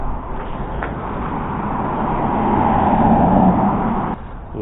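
Cars pass on a road as a steady wash of traffic noise that swells as a vehicle draws closer near the middle, then eases off, with no voices.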